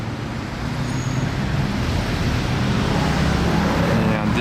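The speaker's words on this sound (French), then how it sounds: "DBX 707 qui monte et un DBX 707 qui descend, même configuration" Road traffic noise from Aston Martin DBX 707 SUVs passing up and down a street in Monaco, a steady broadband roar of engines and tyres held at constant loudness throughout, with no voices.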